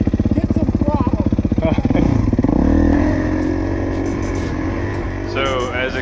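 A 2019 Kawasaki KX450 dirt bike engine pulses at low revs, then climbs under throttle into a steady drone on a dirt road, loud and close throughout.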